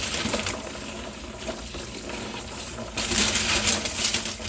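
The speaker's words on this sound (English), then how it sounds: "Just give them a little rinse so you can see them." Tumbled agate stones rattle and clink in a container as they are rinsed with water, a busy close clatter that turns into a louder splashing, rushing wash near the end.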